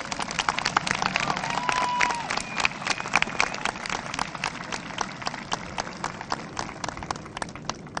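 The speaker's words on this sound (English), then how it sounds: "Let's have a nice round of applause." Crowd applause for a graduating class of 2015 at a graduation ceremony, dense steady clapping from a large audience filling the whole stretch at an even level, with faint voices mixed in.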